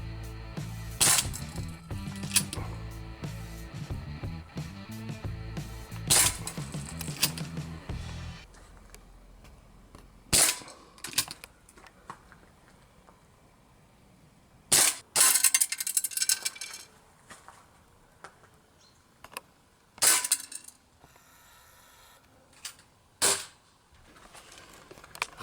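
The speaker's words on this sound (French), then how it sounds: "Alors c'est parti pour une série de tirs avec appui." Colt Python .357 Magnum 6-inch airgun firing a series of shots: about a dozen sharp, dry metallic cracks at irregular intervals with quiet handling clicks between, the first few over a low background music bed.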